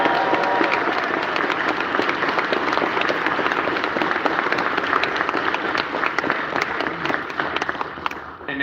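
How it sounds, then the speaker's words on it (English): An audience at a closing ceremony in a Hilton Hotel ballroom gives sustained applause, a thick, steady roar of many hands clapping at once that holds at an even level from start to finish with no talking. "So please, for the ICC,"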